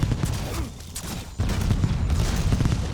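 Dense gunfire from Black Ops 7 Zombies, a steady rattling burst that runs almost continuously, drops briefly, then resumes loud and close with no talk over it.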